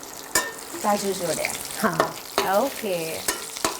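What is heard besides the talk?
sautéing boiled potatoes with cashews in a pan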